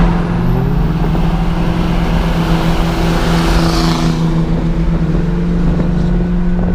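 Steady, loud engine drone and road rumble from a Chevrolet Corvette C4 being driven, heard from inside the car with no break and a faint higher whoosh passing midway.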